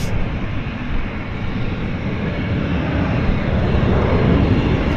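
A plane taking off at Vancouver Airport, a loud continuous jet engine roar, broad and steady across the whole stretch, holding close and powerful without pause.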